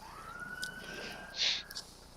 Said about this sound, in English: Ooh, y'all heard that siren?